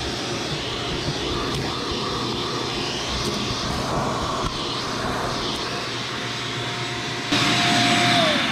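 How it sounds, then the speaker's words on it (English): Compressed air blowing sand and fine dirt out of the spark plug wells of a 2.0L Ford Escape engine, a steady loud hiss that continues unbroken and swells louder near the end. "I'm actually going to blow it out with a air tool, and that just gets all the fine sand and dirt out of there"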